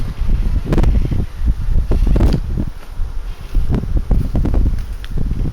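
Outdoor wind buffets the microphone in loud, uneven gusts, a rough low rumble rising and falling throughout with rustling mixed in, and nobody speaking.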